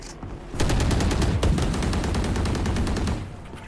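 Video game gunfire, a loud sustained burst of rapid automatic shots after a brief quieter lead-in, then fading near the end, with no talking.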